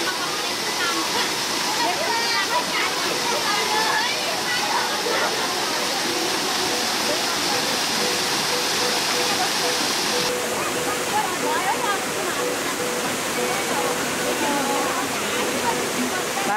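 The Chinnamasta river in Chatara rushes past as a loud, steady roar of churning water, constant and close for the whole stretch, with a voice faintly audible beneath the flow.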